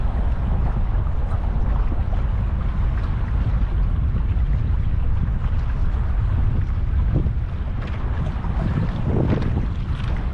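A boat with dual engines on the Colorado River gives a steady, loud engine drone mixed with heavy wind buffeting and water rush, continuous throughout with no speech.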